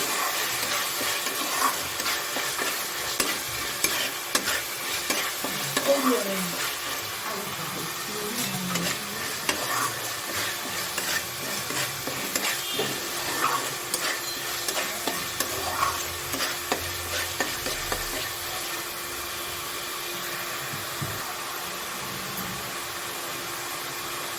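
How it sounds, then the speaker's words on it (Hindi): Steady close-up sizzling of garlic paste frying in a pan with occasional stirring scrapes, a continuous crackling hiss throughout and no voices. "लहसुन को भी हमें बहुत अच्छे से फ्राई करना है।"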